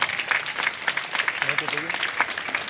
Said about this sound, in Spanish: Pedro Aponte, para el cual quiero un fuerte aplauso.